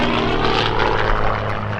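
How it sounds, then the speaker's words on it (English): A Gamebird GB1 aerobatic propeller aircraft flies at the Sywell airshow, its engine a loud, steady droning roar close by with no voices. "So this is a bit of a hybrid really, an aerobatic aircraft but also a tourer."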